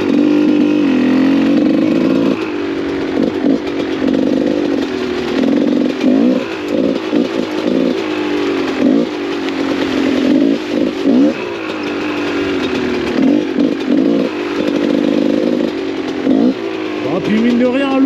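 GasGas 300 dirt bike ridden through rough, wet ground, its two-stroke engine buzzing and revving continuously with rising and falling pitch, close and loud, while a voice speaks over it.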